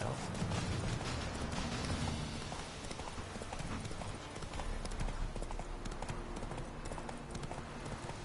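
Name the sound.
horse hooves galloping in The Witcher 3 video game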